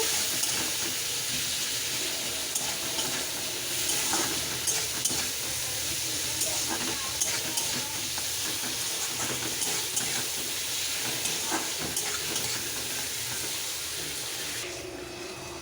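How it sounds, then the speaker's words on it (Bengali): Onions frying with salt in a pan while cooking chicken kosha, a steady broadband sizzle with faint stirring clicks running throughout at moderate, close level. "নুনটা দিয়ে পেঁয়াজটা একটু লাল লাল করে ভাজবো, প্লাস একটু সিদ্ধ হতে দেব।"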